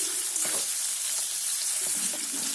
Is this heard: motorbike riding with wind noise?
no